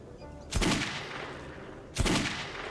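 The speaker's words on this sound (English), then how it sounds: "Let's see if we can shoot some bottles, eh?" Two loud, sharp gunshots about a second and a half apart at a bottle-shooting range in the video game Metro 2033, each a close crack with a short reverberant tail over faint background ambience.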